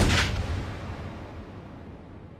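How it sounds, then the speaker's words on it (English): A single gunshot in the church scene of the film Romeo + Juliet: one loud, sharp report at the very start, followed by a long reverberant echo that slowly fades through the room. "all leading up to that final gunshot."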